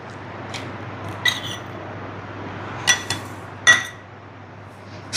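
Custard powder mixture being stirred into milk: a spoon gives a few sharp clinks against the vessel, scattered irregularly over quiet background, close and clear, with no talking.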